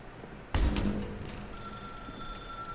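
A telephone rings in the video game The Stanley Parable: a sharp onset followed by a steady electronic bell tone that keeps sounding, with no talk over it.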